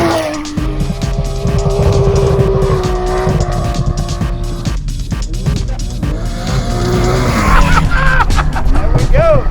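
A Porsche 911 rebuilt as a trophy truck drives hard, its engine loud and strained while the tires slide and squeal through long drifts, close and loud, with excited voices over the top.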